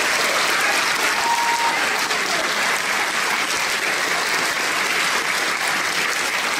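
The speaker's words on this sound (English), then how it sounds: "How about a round of applause for all three candidates for being here today?" Audience at a Kansas congressional debate applauds the three candidates, steady dense clapping from a crowd that holds evenly throughout without any talking.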